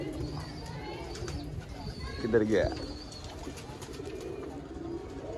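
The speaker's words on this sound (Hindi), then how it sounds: "कबूतर बैठता है" Soft, low pigeon cooing rises briefly amid rooftop outdoor ambience, with someone speaking quietly nearby.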